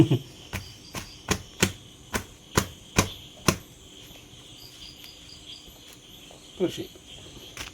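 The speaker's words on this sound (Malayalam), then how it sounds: "ഇരുന്ന് പൊറോട്ട ഞാൻ അടിച്ച് പദം വരുത്തും" Parotta dough is slapped and beaten by hand, about nine sharp, evenly spaced thwacks in quick succession, then a pause and one more pair of slaps, close and crisp over a quiet room.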